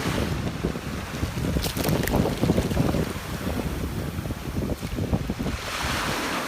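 Ocean waves roll in over a sandy beach while hunting for shells, with a steady washing surf and wind buffeting close to the microphone, no voices present.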